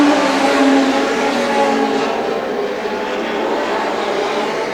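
Legend Cars race around a track, a loud continuous whine of engines rising and falling as the pack passes nearby, with no speech.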